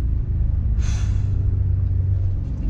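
A Mercedes S63 AMG Coupe with an Akrapovic exhaust holds a deep, steady rumble close by, with a brief airy hiss rising over it early on.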